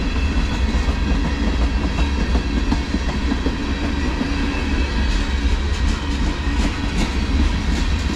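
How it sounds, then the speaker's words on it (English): A CSX manifest freight train, M409, rolls steadily past close by, a loud continuous roar of wheels and cars with rhythmic clatter throughout and no voices. "M409, the train just went by."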